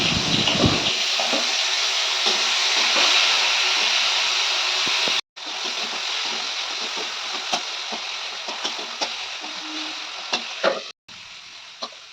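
Mashed potato (aloo chokha) with tomato frying in a pan makes a steady loud sizzle with occasional stirring scrapes and clicks, briefly interrupted twice by short silences before the frying resumes.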